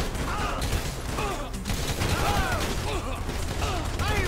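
Gunfire in GTA 5 story mode prologue, a dense continuous stretch of shots and mechanical clatter with sirens or whistling tones overhead, loud throughout with no gaps.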